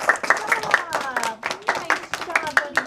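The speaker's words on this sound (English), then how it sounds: "let's give Gavin a round of applause right now" A small group claps in a classroom, with uneven, rhythmic bursts of hand claps close by and voices talking over them throughout.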